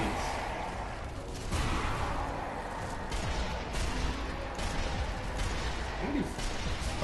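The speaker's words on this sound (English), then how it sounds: "Yeah, there we go, grenades." Grenade explosions in the video game Sniper Elite: Nazi Zombie Army 2, heavy blasts over a steady roar of game noise, with several sharp bursts spread across the stretch.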